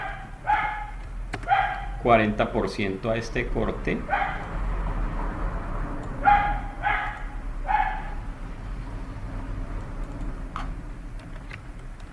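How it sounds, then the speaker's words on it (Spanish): A small dog barks in repeated short bursts in two groups, fairly close, under and between a man's ongoing lecture-style speech indoors. "otra vez le dio al perrito por ladrar"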